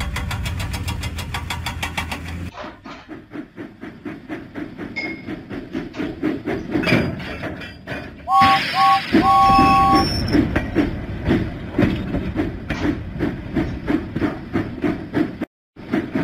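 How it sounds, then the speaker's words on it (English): Steam engine James puffing in a Thomas and Friends video game, a rapid rhythmic chuffing with clanking, a short whistle toot midway, and cartoon music over the steady beat. "James pumped his pistons and puffed out of the docks."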